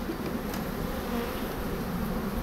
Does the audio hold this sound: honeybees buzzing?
yes